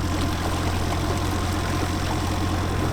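A 2021 Mercury 25 horsepower outboard motor with electric start and tilt trim idles steadily up close, a constant low engine drone with no talk over it.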